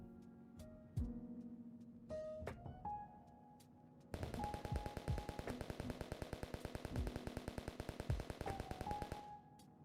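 Rapid automatic gunfire from a Counter-Strike style shooter built in JavaScript: a few separate shots, then a sustained burst of evenly spaced rounds lasting several seconds, faint and with no talking.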